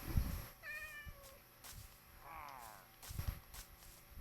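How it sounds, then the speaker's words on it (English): A cat in the game Minecraft meows a few times, short rising calls against quiet background game sounds with a couple of soft thuds. "Oh, that was a cat."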